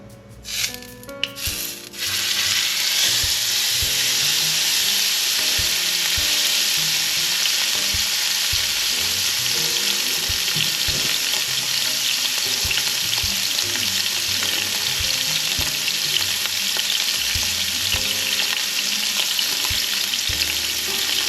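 Venison for a Wellington sears in a very hot pan, a loud, dense, steady sizzle that bursts in with a few clatters and then roars on without pause.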